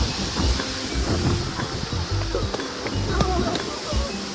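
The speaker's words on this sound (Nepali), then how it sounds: "पानी परिरहेछ, खोला बगिरहेछ" Rain falls and a swollen stream rushes near Fungfung waterfall on a hike, making a dense, steady wash of hiss and splashing with a few low knocks, while voices talk over it.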